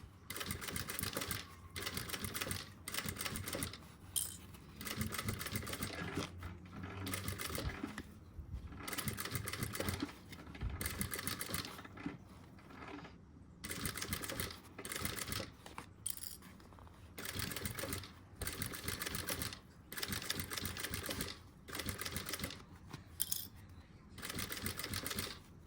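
Sewing machine stitching an Easter cosmetic bag, heard as quick mechanical stitching bursts that start and stop repeatedly, close and fairly quiet, with no talking over it.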